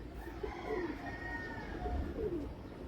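Pigeons coo softly in repeated low, rolling calls, a few phrases under a constant low rumble of outdoor background noise.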